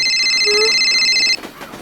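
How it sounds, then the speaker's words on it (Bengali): An electronic telephone ringtone trills in a loud, steady, high-pitched tone for over a second and then stops abruptly. "ফোনটা ধরবি না"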